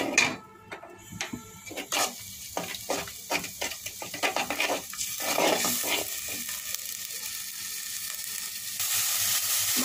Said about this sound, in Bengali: এগুলো দিয়ে আমি এখন একটু কষিয়ে নেব মশলাটা ভালোভাবে।